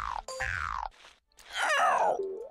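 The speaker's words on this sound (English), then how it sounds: "It sounds like sticky saran wrap." A bizarre synthetic video game sound effect from Super Mario Galaxy, like sticky saran wrap, with warbling, sliding tones and a sticky crackling texture, in two short bursts separated by a brief pause.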